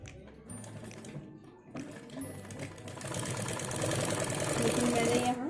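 A sewing machine runs steadily as it stitches fabric strips together for a neck cord, a continuous mechanical whirr that grows louder and busier toward the end, with a brief pause near the start.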